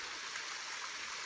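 A distant waterfall in New South Wales gives a faint, steady rush of falling water with no voices over it.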